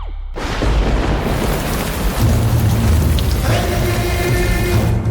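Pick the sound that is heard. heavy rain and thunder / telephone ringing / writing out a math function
heavy rain and thunder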